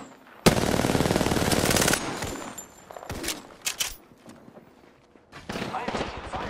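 Close, loud automatic gunfire in an Apex Legends match: a sustained burst of rapid shots for about a second and a half, then scattered single shots and short bursts, with a player talking over the action.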